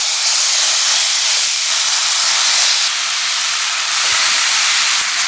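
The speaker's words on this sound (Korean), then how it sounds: "골고루 저어주면서 볶아주세요" Marinated pork stir-fries in a pan heated over medium flame, giving a loud, continuous, close hiss of sizzling that barely wavers across the whole stretch.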